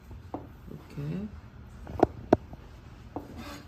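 A knife cuts through stacked slices of mung bean jelly (muk) on a cutting board, giving a couple of sharp, close taps among softer rubbing and sliding sounds, with a brief voice heard faintly.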